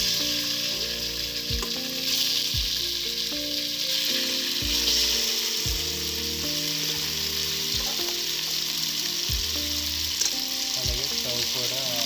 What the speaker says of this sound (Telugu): ఇందులో ఫస్ట్ బోన్లెస్ చికెన్ పీసెస్ వేసేద్దాం.